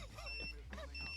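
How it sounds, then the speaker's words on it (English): A high electronic beep sounds twice in a battle royale video game where players wear exploding collars. The beeps are brief and steady, with voices talking over them. "Oh, something's beeping."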